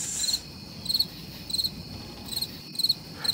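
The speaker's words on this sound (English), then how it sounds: "you can always just play crickets." Crickets chirp in short, evenly spaced bursts, a shrill pulsing trill repeating steadily and clearly against a quiet background.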